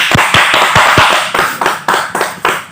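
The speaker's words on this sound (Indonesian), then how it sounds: "Jadi kita berikan aplaus dulu untuk kita bersama." A group of women clapping together in a meeting room, a loud, close burst of rhythmic applause with sharp, evenly spaced claps that fade slightly toward the end, with no talking.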